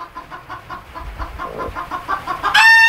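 A broody hen sitting on a clutch of eggs on a farm clucks in a rapid string of low, close grumbles, ending in a sharp, loud squawk.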